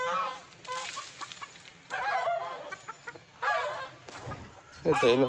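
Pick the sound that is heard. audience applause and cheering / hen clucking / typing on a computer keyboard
hen clucking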